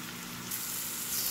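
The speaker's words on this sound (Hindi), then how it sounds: "इसे हम ब्राउन होने तक इसी तरीके से भूनेंगे" Chopped onions fry in a pan until brown with a steady, close hiss and crackle of sizzling oil, growing slightly brighter partway through.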